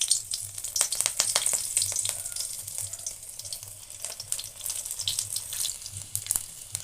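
Dried red chillies and five-spice seeds fry in hot oil in a wok, giving a steady bright sizzle with scattered crackles and pops throughout, no voices.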